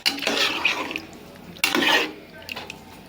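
Surti veg tapelu is stirred in a pot, with two bursts of scraping, sloshing stirring about a second and a half apart, close and fairly loud, then quieter faint clinks.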